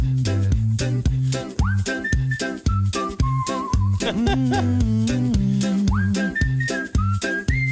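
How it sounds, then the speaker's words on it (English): A melodic whistle carries a tune over a steady, punchy beat with bass, rising and falling through the song's phrases. "this dude right here that's doing the whistling"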